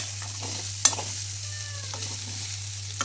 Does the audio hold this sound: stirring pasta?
yes